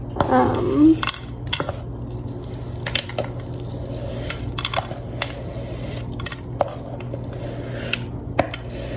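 Cake batter being spread and evened out in a baking pan, giving soft squishy scraping with light clinks of a utensil against the metal pan, intermittent and close, with no talking.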